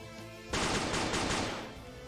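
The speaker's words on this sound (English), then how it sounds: "I could hear gunfire." Rapid automatic gunfire in the visual novel game Dies irae bursts in suddenly as a dense, loud rattle of shots lasting over a second, then fades out.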